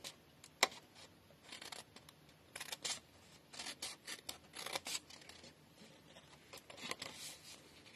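Scissors snipping bevelled tabs around the folds of paper for a scrapbook advent calendar, a quiet close run of irregular crisp cuts and rustles with no voices.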